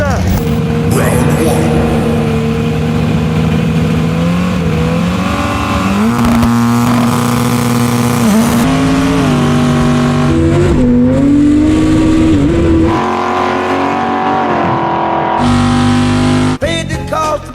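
Drag race cars, including a Barracuda, launch side by side in a 1,000-foot heads-up race, loud engines roaring and shifting pitch repeatedly over crowd and track noise, with commentary voices mixed in.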